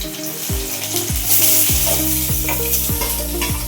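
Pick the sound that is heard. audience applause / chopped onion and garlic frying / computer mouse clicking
chopped onion and garlic frying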